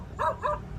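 Two short dog barks or yips in quick succession, moderately close, over low background rumble at night near a large old factory in Pasuruan, East Java.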